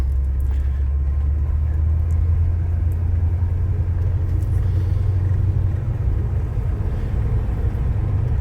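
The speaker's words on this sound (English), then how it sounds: "I had the truck out, and I thought, well, I'll just go around the block real quick." A 1984 Chevy C10 pickup truck rolls slowly around a neighborhood block, its engine a steady low rumble with road noise droning continuously from inside the cab.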